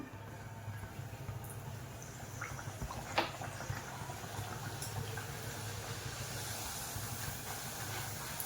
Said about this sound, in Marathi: आपण आता पुऱ्या सोडून घेऊया